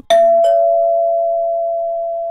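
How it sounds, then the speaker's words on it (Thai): A single electronic doorbell chime rings out loud and close, a short strike followed by one long, steady tone that holds and slowly decays, alone in silence. "เสียงกลิ่งก็ดังขึ้น ดังยาวค้าง"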